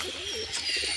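A spotted pigeon gives soft, low cooing notes close by, in a short wavering burst over a steady background hiss.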